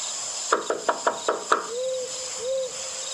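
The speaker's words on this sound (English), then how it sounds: "I knocked 1 more time out of desperation" Six sharp knocks in a quick, even series, followed by quiet and a couple of soft hooting tones against a steady background hum.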